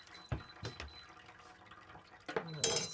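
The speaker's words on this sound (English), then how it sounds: "Pour a little bit of water in." Water is poured through grain while home-brewing beer: several splashy bursts at irregular intervals, ending in a louder, fuller pour, with faint voices in the background.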